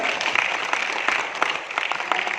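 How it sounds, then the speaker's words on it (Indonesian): A seminar audience at a Prudential event in Makassar claps in a brief, steady burst of applause, moderately close, with scattered sharper claps standing out. "Tepuk tangan dong untuk Prudential."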